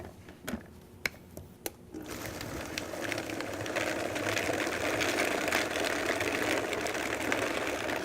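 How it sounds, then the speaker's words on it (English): Food processor pulsing day-old Italian bread: a few sharp clicks and knocks, then a loud continuous whirring motor that runs steadily to the end. "And then start pulsing away."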